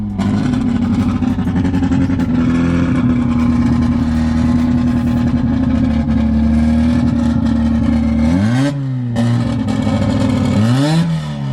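A Mazda Miata with a loud aftermarket exhaust tip drones steadily at high revs up close, then drops and blips sharply twice near the end, the exhaust note staying loud and raspy throughout.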